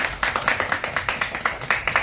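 A small group of people at a home claps in a close, rhythmic series of sharp, fairly regular hand claps that keeps a steady pace throughout.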